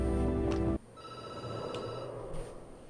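In the video game Night Call, a telephone rings loud and clear with a bright electronic tone, then drops abruptly to fainter lingering tones over a low background.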